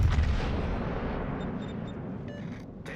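Heavy 460mm battleship guns on the Musashi fire in World of Warships, a booming blast whose deep rumble rolls and slowly fades over a few seconds. Faint higher tones and clicks from the game's interface come in near the end.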